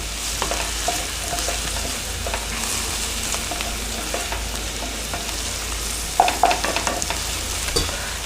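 Ginger frying in a pot as the base for chicken soup gives a steady, close sizzle with soft stirring scrapes throughout and a few sharper clinks near the end.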